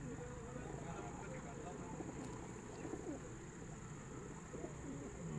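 Paired pigeons on a rooftop loft in Sialkot, giving soft, faint cooing over a steady background hum.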